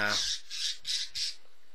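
A pet bird screeching in the video game Evil Genius: four harsh, evenly spaced squawks, loud and close, with a brief voice at the very start.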